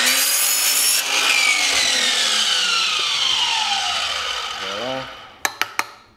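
A power saw slices through a damaged carbon composite blade, a loud sustained whine that gradually drops in pitch, then winds down and ends with three sharp clacks.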